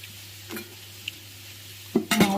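Green chillies fry in a pan for a mango and coconut chutney, with a soft hiss under a low hum, a few light taps, then a burst of sizzling and spatula clatter near the end.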